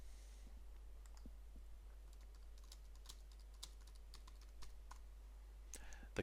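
Typing a name into a guest comment form on a Joomla 3.2 site: a quiet, irregular run of computer keyboard key clicks over a steady low hum, with faint clicks clustering near the end.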